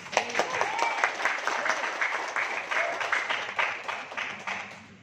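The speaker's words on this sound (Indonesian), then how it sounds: "Berikan aplaus untuk Ibu." An audience at an Indonesian talk on interpersonal skills gives steady applause for several seconds, with a voice speaking over the clapping.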